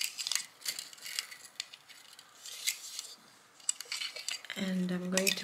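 Scissors make a few quick, crisp snips through beading thread at close range, with small rustles and handling noises between the cuts.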